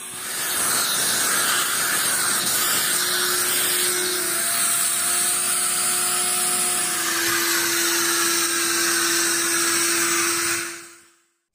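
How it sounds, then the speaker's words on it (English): A loud, steady whooshing roar of a steam cleaner and wet vacuum combo rinsing car upholstery runs continuously with hissing steam, holding constant before cutting off abruptly at the end. "rinse the section with a steam cleaner and wet vacuum combo"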